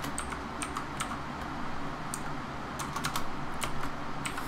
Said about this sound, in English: Now I apologize if you hear my keyboard.